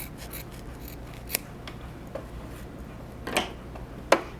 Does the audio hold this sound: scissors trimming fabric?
yes